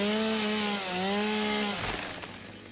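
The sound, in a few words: chainsaw cutting in a video game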